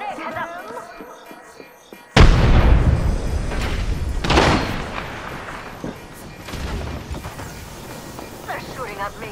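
A sudden loud blast of gunfire in the Apex Legends video game, followed by more heavy shots and echoing booms, with voices talking over the fight.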